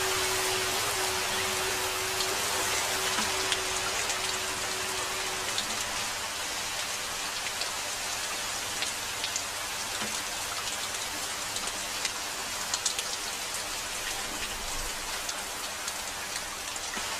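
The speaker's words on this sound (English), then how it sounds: "rain has come, even before we have finished sowing the seeds!" Steady rain pours down at sowing time, a dense, even hiss of drops that carries on unbroken with no voices and only faint scattered taps.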